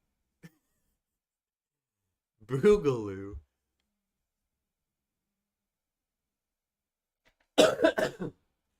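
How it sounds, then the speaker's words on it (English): Two separate harsh coughs break a quiet room, spaced several seconds apart, each a short rough burst close to the listener. "Honestly, the cough is getting annoying."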